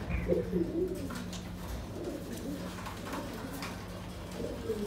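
Pigeons cooing softly in low, throaty murmurs, a few repeated calls at a moderate distance over a faint steady background hum.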